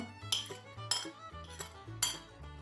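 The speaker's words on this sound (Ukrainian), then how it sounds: "петрушечка в мене добре перемішую і соус готовий" Metal spoon clinking against a bowl while stirring a sour cream sauce with pepper, salt, garlic and parsley, four sharp rhythmic clinks roughly half a second apart over scraping, close and fairly quiet.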